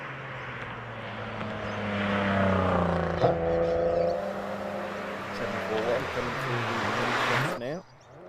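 Front-wheel-drive rally car accelerating out of a hairpin on a rally stage, engine note climbing through revs with a gear change, loud and close before cutting off abruptly, under a commentator's talk.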